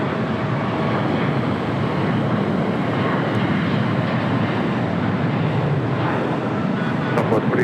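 Air Canada Boeing 737 MAX 8 jet taking off at LAX, its engines a steady, broad roar that fills the air at moderate distance without letup.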